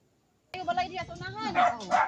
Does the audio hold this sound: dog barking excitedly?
yes